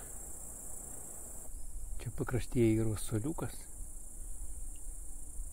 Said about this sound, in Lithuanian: Žiogai tik girgžda.